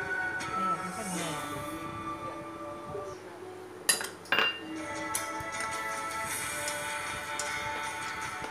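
Roasted peanuts and sesame seeds stirred together in a pan for crunchy Vietnamese peanut candy, with quiet scraping and a few sharp metallic clinks of the utensil against the pan, mostly soft and close.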